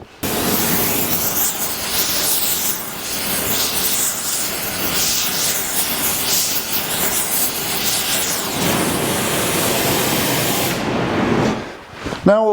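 A torch roars with a loud, steady hiss as it heats a rusted, oil-soaked frame bolt on a 1982 Jeep CJ7, continuous and close, cutting off abruptly near the end.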